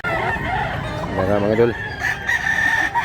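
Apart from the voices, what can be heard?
roosters crowing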